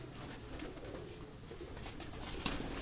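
Performer pigeons cooing on a rooftop, a soft continuous murmur of low coos with faint chirps above, steady and fairly close, ending with a brief sharper sound near the end.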